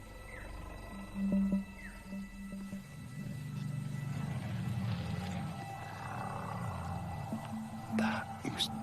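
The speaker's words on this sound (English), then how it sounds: "definitely the sound of an elephant over there" An elephant in a Rwandan forest gives a low, drawn-out rumbling call that swells in the middle and carries from some distance, set against steady insect hum and faint forest sounds.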